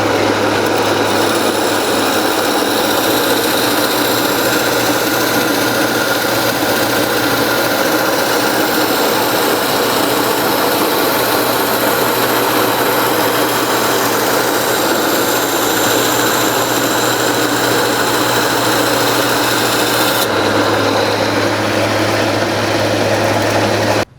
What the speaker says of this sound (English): Like the bandsaw, the ring saw does not require force.